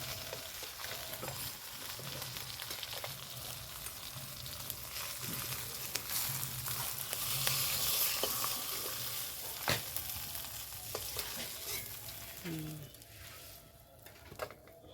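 Fish fries in oil on a new stove as it is stirred, giving a close, continuous sizzle with scraping stirs and occasional sharp pops.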